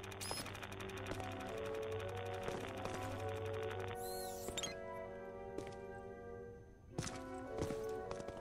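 Rapid bursts of gunfire from a proton-pack style weapon in the Ghostbusters video game, an even stream of shots for several seconds, then scattered impacts and thuds with a sharp burst near the end, all fairly quiet.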